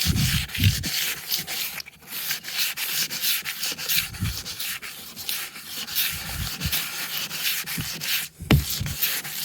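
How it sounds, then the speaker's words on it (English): Steady hand block sanding of gelcoat on a Sea-Doo, a raspy back-and-forth scrubbing in an uneven rhythm, close and fairly loud, with no talking. "And then block sanding"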